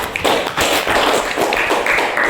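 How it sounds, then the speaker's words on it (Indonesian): Classmates in a primary-school lesson clap their hands together, a dense, steady patter of many close claps lasting about two seconds with no voices over it. "Tepuk tangan teman"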